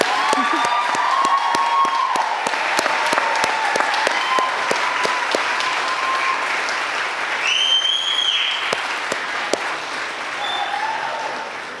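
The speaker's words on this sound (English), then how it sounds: "I think they deserve just one more round of applause." Audience applause fills a nursing convocation ceremony at Elmhurst University, a steady sustained round of clapping with scattered whistles and a few cheers, loud and continuous throughout.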